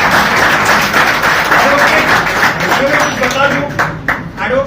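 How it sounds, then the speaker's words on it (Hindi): A crowd claps loudly and steadily to welcome Advocate Sandeep Khatke at an Aam Aadmi Party joining event in Mumbai, with voices mixed into the dense applause. "जोरदार तालियां"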